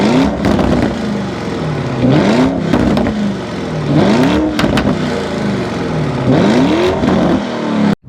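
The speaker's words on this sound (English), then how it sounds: "it comes with Akrapovic exhaust, and when it's in Corsa mode, the valves are open" Lamborghini Urus Performante with Akrapovic exhaust, valves open in Corsa mode, revved hard again and again. Each loud, close throttle blip climbs and falls in pitch with a raspy, crackling edge, repeating in a rhythmic series with no voices over it.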